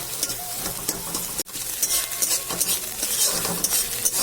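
Egg scrambled and frying in hot oil in a wok for chowmein, a steady loud sizzle with stirring and scraping of a utensil against the pan throughout, briefly cut off once.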